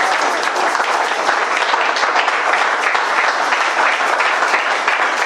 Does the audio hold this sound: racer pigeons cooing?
no